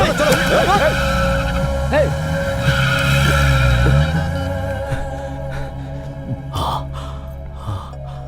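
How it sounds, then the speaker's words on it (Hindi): A car in a dubbed Kannada action film revving and pulling away with tires squealing and skidding, loud and close, mixed with gasps and dramatic background music. "गाड़ी निकालो।"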